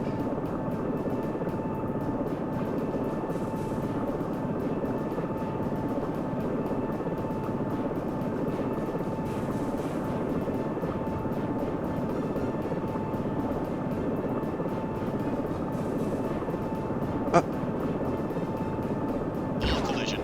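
Steady helicopter rotor and engine drone from a flight video game, a constant mid-level hum with a faint tonal whine, broken by a brief sharp click near the end.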